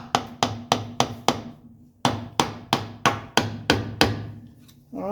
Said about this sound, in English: I'm going to stick a block of wood in there and just tap on it